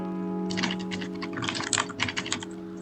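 Fingers type on a computer keyboard while entering text into a Glide app builder form, with rapid irregular bursts of close keystroke clicks over a steady low electronic hum.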